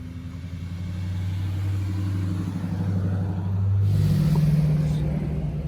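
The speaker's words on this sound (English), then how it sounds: "his car's running good, so he's just gonna keep sending it" Car engine at an autocross event, a steady loud drone that climbs in pitch as it revs, heard close and continuous with no talk.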